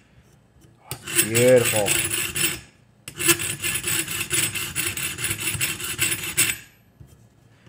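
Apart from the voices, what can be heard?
fine file smoothing metal plier jaws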